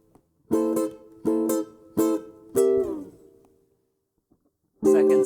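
Jazz guitar chords of a blues progression in C, four short strummed chords in steady rhythm with a ringing pause before a fifth chord, close and clear with no talking.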